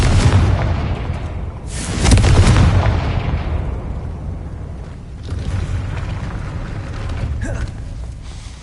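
A Confringo fire spell explodes in a Harry Potter video game: a loud, rumbling blast swells and fades, followed by lower booms and creaking mechanical rattles. The sound is close, with no speech over it.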